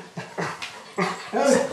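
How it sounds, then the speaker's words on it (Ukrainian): A guide dog belonging to a former special forces serviceman gives a quick series of close, short whimpers and yips, rising in intensity toward the end, with no talking. "Це Хена, собака-поводир Олександра Дармороса"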